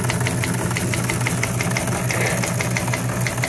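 A teletype machine printing headlines: a loud, continuous clattering mechanical chatter with a rapid rhythmic knocking and a steady low hum, close up, with no voices.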